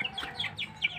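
Several quick, high chirping calls from birds, like chickens or chicks, repeat rapidly in the background at low volume.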